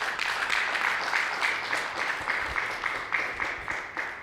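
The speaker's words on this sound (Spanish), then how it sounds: "Denle un fuerte aplauso al Señor Jesucristo." Congregation at a Spanish-language church service gives a strong round of applause, dense steady clapping with rhythmic pulses running throughout.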